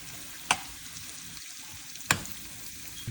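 Onions frying in a pan for homemade chicken pastel, a continuous soft sizzle with two sharp scraping knocks of stirring, no talk over it.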